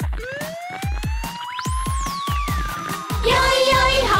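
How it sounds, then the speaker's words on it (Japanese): A police car siren rises and falls in a children's song, wailing over a steady thumping beat with bright synth music joining toward the end. "パトカー出動、 パトカー"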